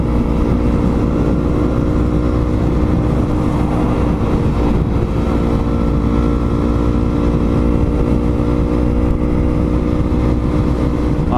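A steady, loud engine drone runs throughout from a Yamaha MT-03 motorcycle cruising at constant speed, with continuous rumble and wind noise and no voices.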